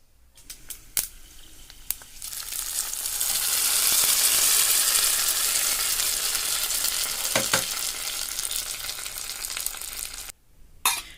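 Hot tempering of lentils, mustard seeds and chillies poured into peanut chutney: a sharp sizzling rush swells and hisses steadily for several seconds, preceded and followed by a few clicks and knocks, close and fairly loud.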